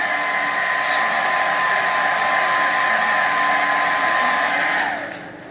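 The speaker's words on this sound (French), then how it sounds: "Mon sèche-cheveux, mon fameux sèche-cheveux, sert en fait à sécher" Hair dryer dries sample deposits on plates during a school science visit at a research institute, a loud, steady whir running close-up and unbroken before it switches off and winds down at the end.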